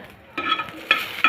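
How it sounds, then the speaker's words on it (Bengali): Garlic and green chillies fry in oil in a pan, with bursts of bright sizzling and scraping stirs arriving in three distinct surges over a quieter background hiss. "রসুন আর কাঁচামরিচ একটু ভেজে নিচ্ছি"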